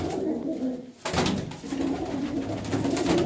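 Pigeons cooing at close range, soft repeated throaty coos in a short run with a brief pause partway through, against a light background murmur.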